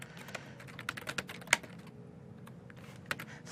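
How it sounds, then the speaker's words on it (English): Close, fairly quiet typing on a computer keyboard, with irregular clicks and a few sharper keystrokes scattered through a soft, steady pattering. "I'm being yelled at for typing too loud"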